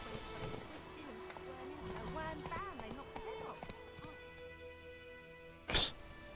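Horse hooves clip-clop in The Witcher 3 around the village of White Orchard, a soft, steady patter under game music and character dialogue, ending with a sudden loud burst near the close.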